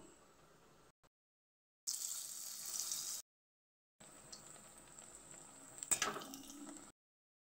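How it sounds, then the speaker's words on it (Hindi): Slices of lauki (bottle gourd) dipped in batter and dropped into hot oil in a kadhai, a soft crackling sizzle in short bursts separated by silences, with one sharper splash near the end. "चलिए तल लेते हैं पकौड़े।"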